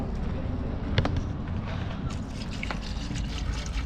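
Water poured out during a seafood gathering, a continuous splashing trickle with a few sharp knocks, set against outdoor background noise and voices talking nearby.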